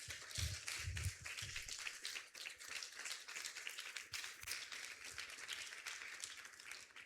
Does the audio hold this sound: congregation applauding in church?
yes